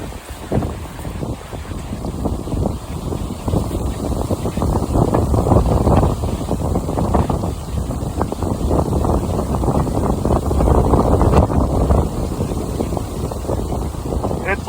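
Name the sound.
strong wind blowing outdoors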